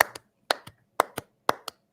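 Hand clapping in four quick pairs, each double clap landing at an even half-second beat. The claps are sharp and close, with near silence between pairs.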